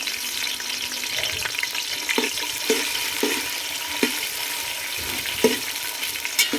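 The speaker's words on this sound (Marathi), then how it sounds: "2 मोठे उभे चिरलेले कांदे आहेत ते टाकून एकदम गोल्डन कलरवर आपल्याला परतून घ्यायचे." Two large lengthwise-sliced onions fry in hot oil toward golden for a wood-fired mutton biryani, a continuous close sizzle punctuated by periodic scrapes and knocks of a spoon stirring them.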